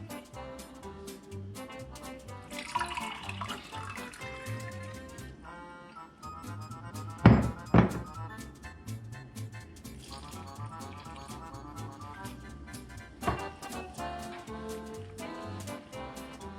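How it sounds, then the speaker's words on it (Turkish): Water runs from a tap into pizza dough being made in a home kitchen, a steady splashing pour with a few louder clatters partway through, fairly close and with no talk. "Biraz da su ekleyelim."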